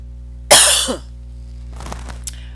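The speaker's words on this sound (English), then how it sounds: "Let me clear my throat." A single loud throat clearing, close and alone, followed by a softer shuffle and a brief click.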